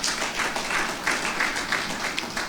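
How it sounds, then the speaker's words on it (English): Audience applause at a conference opening ceremony, a steady wash of many hands clapping at moderate level, heard alone for a couple of seconds with no voices over it. "Please, let's give them a round of applause."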